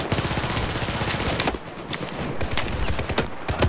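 Rapid automatic gunfire in the video game Battlefield 4, loud bursts of shots, first dense and continuous, then sharper separate volleys after a short pause.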